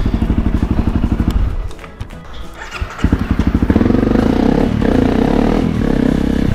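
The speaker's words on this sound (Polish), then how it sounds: "Przerzuciłem się na słabszy motocykl." A motorcycle engine chugs close by, briefly easing off before revving up again into a steady, loud ride with some clattering.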